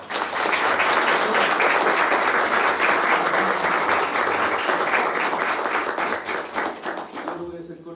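An audience at an International Jazz Day concert applauds loudly and steadily for several seconds, the dense clapping thinning out near the end as a few stray claps and faint sounds remain.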